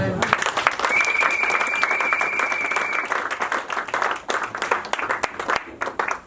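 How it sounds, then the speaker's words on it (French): A church congregation claps and cheers together during a Christian sermon, dense applause filling the room, loud at first and thinning toward the end, with a voice heard over it. "Est-ce que tu peux acclamer Jésus?"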